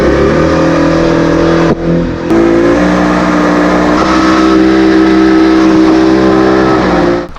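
A jet boat engine on a New Zealand river roars loud and close, dipping briefly as the throttle is backed off, then climbing into a sustained high drone before easing at the end.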